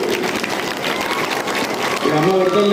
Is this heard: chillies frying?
no